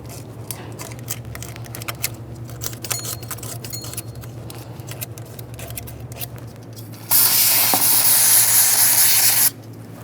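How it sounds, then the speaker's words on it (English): Parts cleaner sprayed from an aerosol can onto a rag during fuel injector work on a 1998-2011 Ford Ranger 2.3L four-cylinder, one loud continuous hiss of about two seconds after a stretch of quieter handling noises. "Let's just get some parts cleaner directly on the rag."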